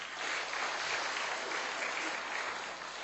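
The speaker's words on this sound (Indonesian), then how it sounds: "Tepuk tangan." Audience applause at a NASA business presentation, a steady wash of many hands clapping together for about three seconds, heard somewhat distant and muffled with no talking over it.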